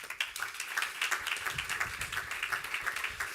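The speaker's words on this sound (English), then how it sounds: "Please give her a round of applause." A live audience at a St. Gallen Talks event claps steadily, a dense patter of many hands held at a moderate, even level for a few seconds with no voices over it.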